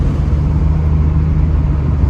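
A New Edge Ford Mustang fitted with a 70mm BBK throttle body and Trick Flow plenum rolls on the throttle. It gives a loud, steady, low engine drone with a constant rumbling tone and no voices.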